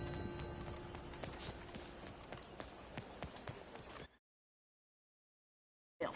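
Horse hooves galloping in the video game Red Dead Redemption, a rapid clip-clop rhythm of hoof beats over a noisy background that cuts to silence, then returns briefly at the end.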